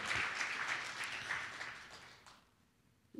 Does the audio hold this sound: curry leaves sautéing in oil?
no